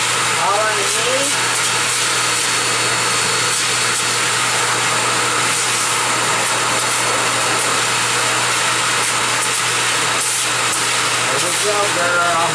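A pet dryer blasts continuously through a husky's dense coat, loud and unbroken from start to finish, with a low steady hum and a person talking faintly beneath the airflow.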